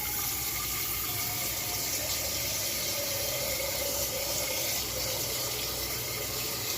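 Water runs steadily from a tap into a cooking pot, a continuous splashing fill for rice with no pauses and no voices.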